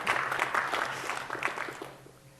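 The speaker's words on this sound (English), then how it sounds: "Yeah, applause." Conference audience applause during a SharePoint developer session, a moderate burst of clapping from the hall that fades toward the end.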